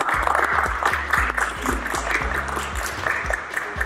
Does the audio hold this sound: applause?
yes